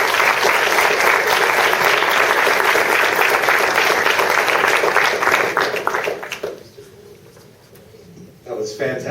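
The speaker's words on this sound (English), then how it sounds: "Let's have a round of applause for our panelists." An audience at a law student conference applauds the panelists after a panel on voting rights, dense sustained clapping that fills the room for about six seconds before dropping away, followed by quiet and then a voice.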